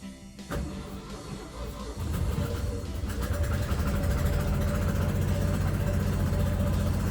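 A car engine in neutral with the brakes on is briefly revved from idle, rising after a click into a louder, sustained rumbling hum that holds steady to the end.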